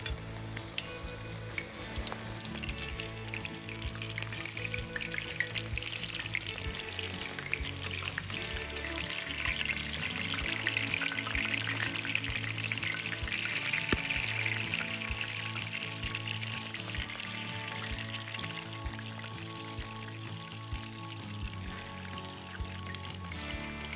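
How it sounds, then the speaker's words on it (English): Steady sizzling and crackling of batter-coated beaver steaks frying in hot oil in a cast iron skillet, loud and close, continuing without pause throughout. "I fried the coated beaver steaks until they were golden brown and perfectly crispy."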